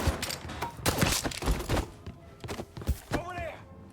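Scattered gunshots from a street shootout in the Mafia III video game, several sharp cracks and thuds in irregular bursts, with voices shouting over the action.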